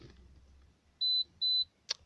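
A repaired, previously intermittently faulty car reversing sensor gives two short, clear electronic beeps in quick succession, followed by a sharp click, in an otherwise quiet setting.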